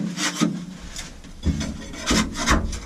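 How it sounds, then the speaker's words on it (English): Repeated rough scraping strokes, a spatula rasping against the floor in uneven bursts about every half second as it prises off glued-down rubber foam, close and fairly loud. "It's glued down pretty well, so I was using a spatula to get it off."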